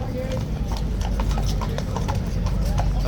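Police horse hooves clip-clopping on a road in central London, a steady rhythmic series of hard hoof strikes close by, over a busy crowd murmur and a person talking.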